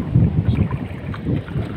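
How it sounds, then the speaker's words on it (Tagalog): Strong wind buffets the microphone on a night fishing boat at sea off Polillo Island, a loud, gusty low rumble that swells and eases without pause, with no talking. "yung hangin eh napakalakas pala"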